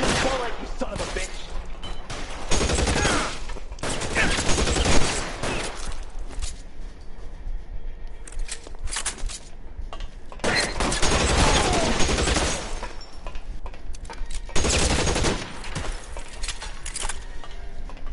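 Repeated bursts of gunfire from a shootout in the video game L.A. Noire, several loud volleys separated by short pauses, with talk mixed in.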